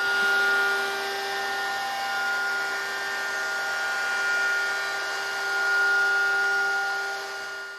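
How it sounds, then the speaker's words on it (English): A handheld router fitted with a 1/4-inch radius roundover bit rounds over wooden edges of a Mission-style bed part, giving a steady, loud motor whine with bright high tones that holds throughout and swells slightly as the cut proceeds. "Now we can go ahead and round over the edges using a 1/4-inch radius roundover bit in the handheld router."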